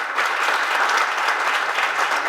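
A church congregation applauding at a Sunday meeting, a dense, steady wash of many hands clapping throughout, fairly loud and with no words spoken.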